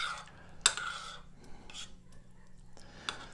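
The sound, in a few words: stirring wine and fig dessert mixture in a pot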